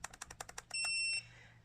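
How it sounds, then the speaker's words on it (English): A single sustained electronic beep from a Mata 7 device entering pairing mode, loud and steady for about half a second, preceded by a quick series of rhythmic clicking button presses. "So there will be a beep"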